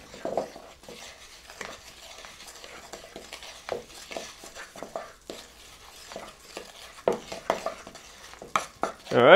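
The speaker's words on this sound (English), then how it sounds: "in goes the flour, in goes the paprika, the pepper, and the salt. And we're just going to mix those together" Flour, paprika, pepper and salt being stirred together in a bowl for a beefy cheesy shepherd's pie, with soft, scattered scrapes and taps of a utensil against the bowl and a louder clatter at the end.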